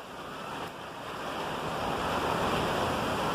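Heavy storm rain in Karachi pours down steadily in a loud, dense hiss that swells slightly and never lets up.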